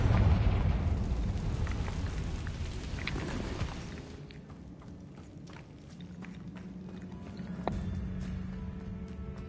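A loud, booming blast from the Confringo spell in the Harry Potter video game, with rumbling debris that fades into quieter ambient game sound.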